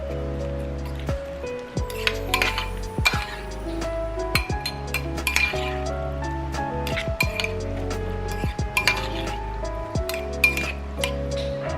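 A utensil mixes mango salsa in a bowl, giving repeated bright clinks and taps against the bowl along with soft wet stirring. Steady background music plays underneath throughout.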